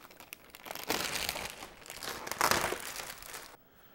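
Plastic packaging crinkles and crackles close up while an aluminum metal print of Pebble Beach is unboxed, with busy bursts that swell and fade before stopping abruptly near the end.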